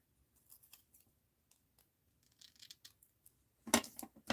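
Scissors snipping through craft paper for a mixed-media art journal, a few quiet scattered cuts close by and then a louder burst of crisp snips at the end.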